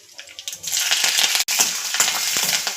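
Mustard seeds and curry leaves spluttering in hot oil, a loud crackling sizzle with sharp pops and hissing bursts, close up and continuous.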